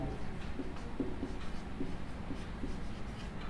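Soft, rhythmic scratching strokes of writing on a board during a maths lesson on sets, quiet and close, with no voices.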